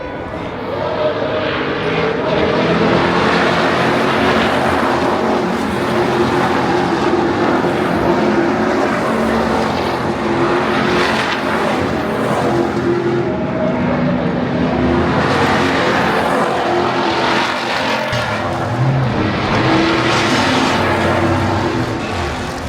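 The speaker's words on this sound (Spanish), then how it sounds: "una muy buena opción para ver camionetas de carrera, las V8 Super UT Series en Bathurst" V8 Super UT Series race pickup trucks, including a Ford Ranger, circuit racing at Bathurst: a steady, loud wall of engine roar that swells and recedes as trucks pass, continuous throughout.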